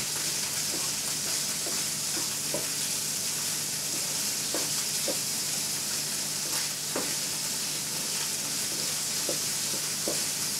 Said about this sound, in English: Stir the tofu until it's golden.